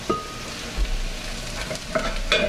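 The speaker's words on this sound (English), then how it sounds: "Okay, the onions are almost done. So now, get your wine ready. Get your capers ready. Salmon's cooking nicely." Salmon and onions frying together in a pan, a continuous close sizzle punctuated by a few brief clicks and scrapes.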